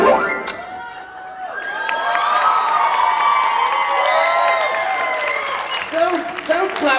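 At a convention panel, a crowd claps and cheers after a brief noisy musical flourish with sliding tones, then voices rise at the end.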